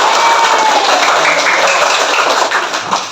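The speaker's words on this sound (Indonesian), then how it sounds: "kita beri tepuk tangan untuk kita semua" A fifth-grade class of children claps together in an Indonesian classroom, a dense, loud and steady round of applause that lasts about three seconds and fades slightly at the end.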